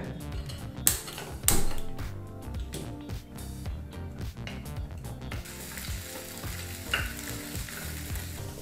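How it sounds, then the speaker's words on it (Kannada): Onions fry in oil over a medium flame with a crackling sizzle, broken by a few louder scraping strokes and clatters of a spatula early on, then settling into a softer, steady hiss. "ಎಣ್ಣೆನ ಹಾಕಿ ಈ ಈರುಳ್ಳಿನ ಮೀಡಿಯಂ ಫ್ಲೇಮಲ್ಲೇ 2 ರಿಂದ 3 ನಿಮಿಷ ಚೆನ್ನಾಗಿ ಫ್ರೈ ಮಾಡ್ಕೋಬೇಕಾಗತ್ತೆ"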